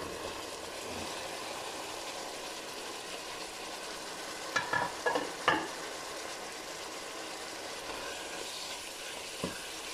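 Beef and vegetables are stir-fried in a pan under a soft, steady sizzle, with a cluster of clattering utensil scrapes in the middle and a single knock near the end.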